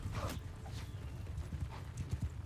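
Cavalry hooves in Bannerlord clip-clop in a steady, fast rhythm, a mass of horses moving together under a dense battlefield rumble, with a faint whinny in the mix.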